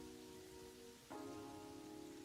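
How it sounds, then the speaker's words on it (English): Rain from the Terraria Calamity game patters softly in a steady wash. Partway through, a sustained tonal game sound enters over it, all at low volume. "I was hoping that would stop the rain, but it did not"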